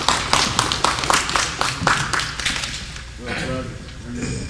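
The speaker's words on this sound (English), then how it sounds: "Now let's give Rolando a round of applause." Applause at a community meeting, a run of sharp, rhythmic claps from several people that thins out after about three seconds as a voice begins talking over the tail.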